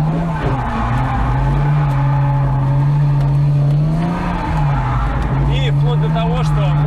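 Car drifting around an asphalt circle at a driving academy: a loud, continuous engine drone with wavering pitch as the throttle is worked, and tire squeal rising and falling as it slides.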